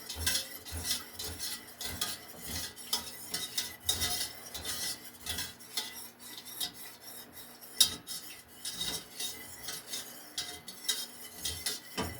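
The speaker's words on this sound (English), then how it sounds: "And you mix it in really well." A spoon scrapes and stirs a thick homemade hand sanitizer mixture with cooled cornstarch and mint in a bowl, making repeated rhythmic rasping strokes, close and alone without talk.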